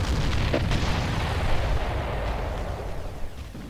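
An enemy Hoverdyne unit exploding in the real-time strategy game Ground Control, a loud low rumbling blast that rolls on steadily for a few seconds with no break.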